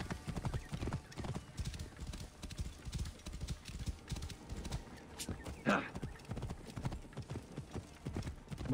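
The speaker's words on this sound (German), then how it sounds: "Schnelles Pferd ist schnell." Horse hooves clip-clop in a rapid galloping rhythm in the video game Assassin's Creed Origins, fairly quiet, with a brief neigh partway through and faint game ambience underneath.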